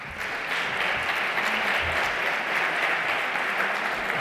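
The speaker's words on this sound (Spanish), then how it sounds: "Un fuerte aplauso." Loud, steady applause from an audience at a public event in defense of pluralism at RTVE, a dense wash of clapping that holds at full strength for several seconds without a break.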